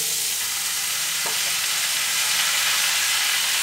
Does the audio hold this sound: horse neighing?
no